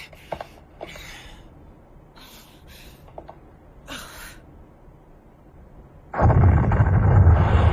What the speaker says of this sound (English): Well, the shooting's already started.